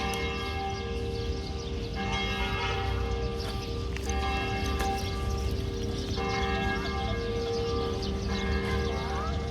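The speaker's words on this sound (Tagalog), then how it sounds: "kalimbang po ng ating kampana" A large church bell in Taal, Philippines, tolls at an even pace, about every two seconds, its ringing tones lingering over a busy, noisy background.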